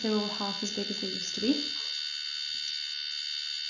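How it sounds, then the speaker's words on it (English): A phone or laptop charger kicking in gives a steady high electrical buzz with layered tones, running under a man's brief speech and continuing alone after he stops. "Sorry about that buzzing noise. It's my charger kicking in."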